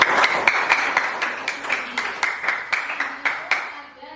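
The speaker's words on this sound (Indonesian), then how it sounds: "Kasih aplaus yang meriah untuk" A classroom audience claps in uneven bursts of sharp hand strikes, a lively but thin applause that fades out toward the end.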